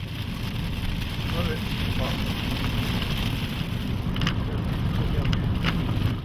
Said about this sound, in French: La pluie tombe avec une telle violence